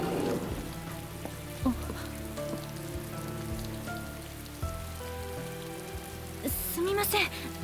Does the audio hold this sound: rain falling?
yes